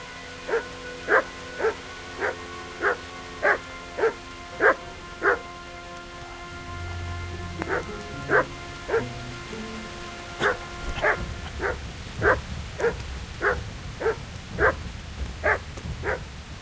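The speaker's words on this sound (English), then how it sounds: "Man, that dog just won't shut up." A dog in the video game Kingdom Come Deliverance barks in a steady, evenly spaced run of sharp barks. After a short break filled with low rumbling movement, it starts again at the same brisk rhythm, fairly close and clear.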